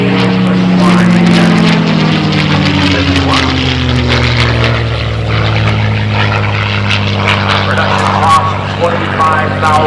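A World War II P-51 Mustang with a 1,510-horsepower Rolls-Royce Merlin engine makes a loud flyby at an air show, its propeller and engine drone swelling near and then sliding lower in pitch as it passes and recedes.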